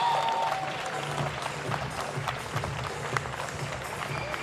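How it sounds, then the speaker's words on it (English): A crowd keeps up a round of applause for the runners-up, Gardians Volleyball Club, at the 2025 VLY Cup women's final, with steady clapping, cheering and some voices mixed in. "please keep the round of applause going"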